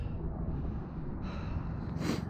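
Heavy, steady panting from someone close by, out of breath at the top of a 100-metre chimney after climbing its ladder, with a constant rush of wind around them.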